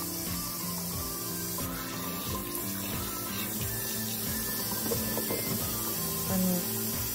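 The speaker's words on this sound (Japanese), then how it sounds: "ちょっと手洗います。" Tap water runs steadily into a sink while hands are scrubbed with soap, a continuous close splashing rush with shifting gurgles as the hands move under the stream.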